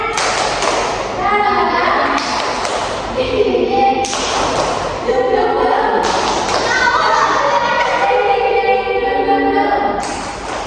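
A primary-school class performs the tepuk semangat clapping chant, children's voices chanting loudly in unison while hands beat out rhythmic claps and thumps close by.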